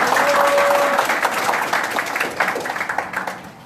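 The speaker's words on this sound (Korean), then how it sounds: "우리 송기현 선배한테 박수를" Audience applause at a city issues briefing meeting in Wonju, a strong burst of clapping from a roomful of people that thins into scattered individual claps by the end.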